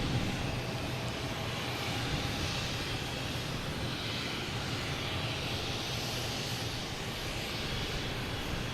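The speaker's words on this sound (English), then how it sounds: "A321 heading to Phoenix." An American Airlines Airbus A321 jet at Boston Logan Airport, heard as a loud, continuous engine roar, close and steady throughout, with broad rumbling noise and no talking.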